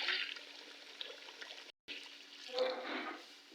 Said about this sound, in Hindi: ये इतना सा पानी आपने डाल लेना इसमें।